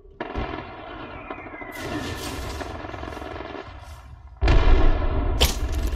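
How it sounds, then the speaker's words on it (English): Gunfire in the video game Apex Legends, made of loud, dense bursts of shots and explosive booms that grow heavier toward the end, close and continuous with no talking. "Opening fire."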